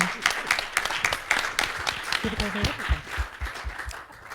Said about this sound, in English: Let's take a round of applause to that.